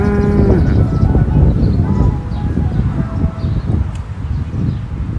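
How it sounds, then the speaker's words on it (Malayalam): A cow on a farm lets out a deep, drawn moo near the start, followed by lower grunting and a quieter second call, with faint birds and rustling in the background. "Cow."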